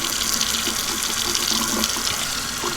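Warm water runs steadily from a tap while a tie-dye shirt is rinsed under it, a close, constant splashing stream with no talk.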